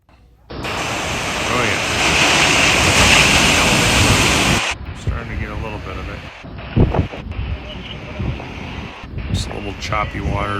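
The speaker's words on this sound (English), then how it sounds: "choppy water pushing in." Choppy ocean waves surge and strong wind buffets the microphone on the Florida coast during Hurricane Helene, a loud roaring wash that eases partway through into rougher, broken surf with a person talking over it.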